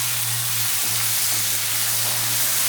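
Tomatoes roasting in a pan with peanuts while upma is prepared, giving a steady, close hiss of sizzling oil that runs without a break, over a low constant hum.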